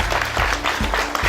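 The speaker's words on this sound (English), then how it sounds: "Big clap for all of you." A crowd claps steadily, dense overlapping applause filling the room without pause.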